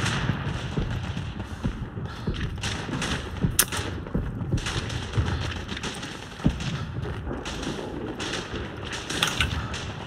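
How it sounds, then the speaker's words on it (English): Gunfire from the World War I trench shooter Verdun crackles as a continuous dense din, with sharper isolated shots and thuds standing out against the steady battle noise. "I'm just gonna give some suppressive fire."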